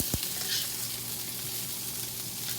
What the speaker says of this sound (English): So let me stir these green beans.